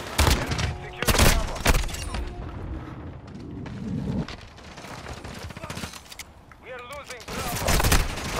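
Shotgun fire in Call of Duty Modern Warfare 2 on the Shipment map, sharp loud blasts spaced between other game gunfire and explosions, with a person talking throughout.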